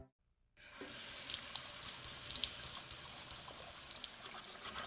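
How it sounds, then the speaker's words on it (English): Tap water runs steadily into a sink after a brief silent start, a close continuous splashing rush with small drips and no talking. "Don't you just love running water? It's like a little tiny waterfall with a tiny whirlpool."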